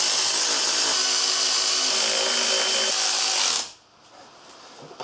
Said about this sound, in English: just grab, again, being lazy, electric ratchet